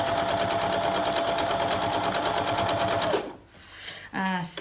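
A sewing machine runs steadily while stitching flat-pressed quilt seams, a fast even whirring that stops abruptly, followed by a few handling noises and a short burst of stitching.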